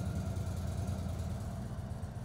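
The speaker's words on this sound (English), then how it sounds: "start the engine and idle for approximately 30 seconds" A 2023 Indian Sport Chief motorcycle engine idles steadily after an oil and filter change, a continuous low rumble with even vibration and no talk.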